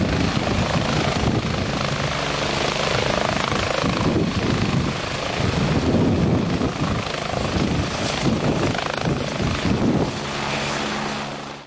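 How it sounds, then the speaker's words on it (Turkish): A Ministry of Health ambulance helicopter landing at Bodrum city stadium, its rotor thumping loud and steady throughout, close and continuous with broadband whooshing, easing off slightly near the end. "Bodrum Şehir Stadı'na inen Sağlık Bakanlığı'na ait ambulans helikopterle"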